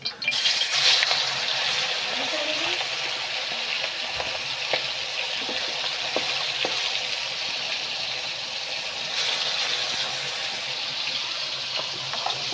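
Chicken pieces fry in hot coconut oil, a continuous crackling sizzle with bursts of spattering, fairly close and moderately loud, holding steady throughout.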